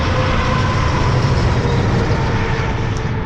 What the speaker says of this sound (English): Listen to some trucks fly by.